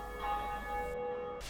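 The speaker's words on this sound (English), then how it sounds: "With that we ring the first bell of awakening." A large bell, the Bell of Awakening in Dark Souls, rings once with a long sustained metallic hum that holds steady before cutting off, alone with no talk.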